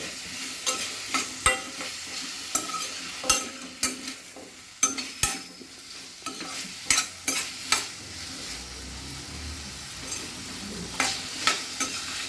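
Tomatoes and tamarind sauté in a pan for onion chutney, with a low sizzle under loud, irregular clacks and scrapes of a spoon stirring against the pan.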